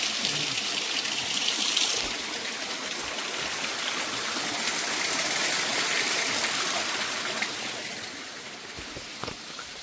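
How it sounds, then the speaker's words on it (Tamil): Water rushes and burbles steadily along a stream in Kandy, a broad continuous flow close by that eases slightly toward the end. "இங்கே பாருங்கள் தண்ணி வந்து ஓடிக்கொண்டே இருக்கிறது"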